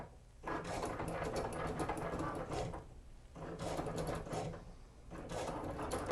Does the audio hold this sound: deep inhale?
no